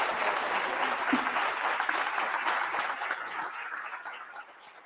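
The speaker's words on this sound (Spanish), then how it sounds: "Voy a devolver un aplauso para Agustín, por favor, y para Carol." Audience applause at a university talk, a dense steady clatter of many hands that continues for several seconds before thinning and fading toward the end.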